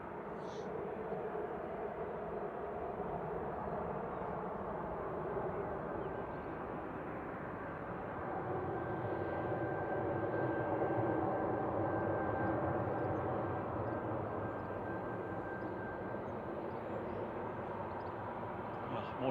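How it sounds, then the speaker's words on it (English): Airplane touching down on the single runway at Manchester Airport, a broad steady engine roar heard from a distance that swells gently midway and holds, with faint talk underneath. "That's flight 1248 just touching down."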